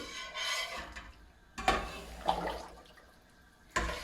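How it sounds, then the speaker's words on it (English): Sugar is stirred into water in a pot on the stove while making syrup for limoncello, giving soft scraping and swishing strokes with a few sharper knocks, close and quiet without talk. "I'm turning, so the water will take all the sugar"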